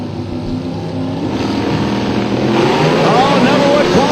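A pair of 700 cubic inch nitrous drag race cars launch at a dragstrip with a loud, sustained engine roar that swells and rises in pitch as they pull away.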